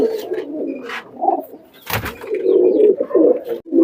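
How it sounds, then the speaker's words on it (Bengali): Nildumba pigeons in a loft coo in low, throaty rolling phrases, loud and close, with a brief clatter of wing or cage noise partway through. "অনেক নীলদম্বা কবুতরের সমারোহ ভাইয়ের কাছে, দেখতে পাচ্ছেন আপনারা"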